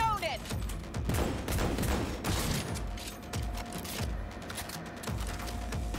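Sustained gunfire in Cyberpunk 2077, rapid overlapping shots in dense bursts with mechanical clatter, loud and continuous, with voices calling out over the firefight.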